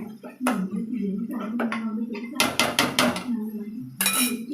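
A lid goes onto a pot of egg tomato curry on the stove, with several sharp metallic clanks and rattles of pot and cover close by.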